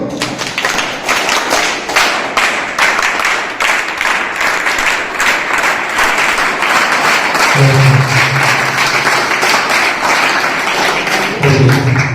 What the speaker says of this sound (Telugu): don Bosco claps go